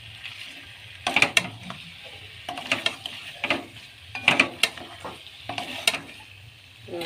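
Water added to a pan of sautéed mutton and potatoes hisses and sizzles, with repeated bursts of stirring and utensil scrapes against the pot.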